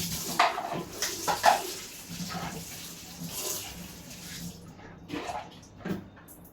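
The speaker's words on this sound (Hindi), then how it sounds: "तो यहाँ पर डिब्बे खाली करती जा रही हूँ, धोती जा रही हूँ" Kitchen containers and dishes are emptied and washed at a sink, with intermittent close clatters of dishware and cutlery over running tap water, which quiets near the end.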